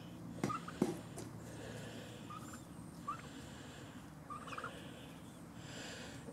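Growing farm turkeys nibbling on collard greens give a few short, faint gobbles spaced across a quiet outdoor scene, heard at moderate distance without talk.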